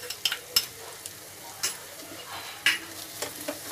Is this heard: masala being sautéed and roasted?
yes